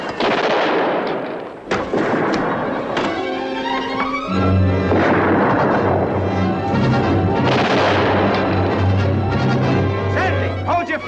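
Battle gunfire in a World War II drama bursts in loud and close, with repeated crashing shots and heavy blasts layered over a dense din, while shouting voices mix in.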